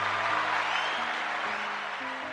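Brief applause, moderately loud and steady, with a few low sustained musical tones running underneath.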